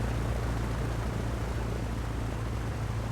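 A Baron twin-engine aircraft taxiing in Microsoft Flight Simulator gives off a constant, loud engine drone with a broad noise wash and a steady low hum, unchanging and with no talking.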